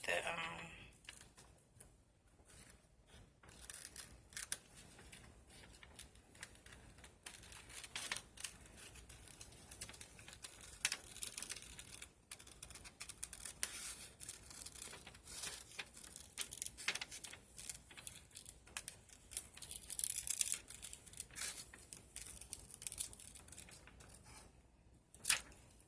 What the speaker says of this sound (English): right where this border is, I'm going to cut it off right there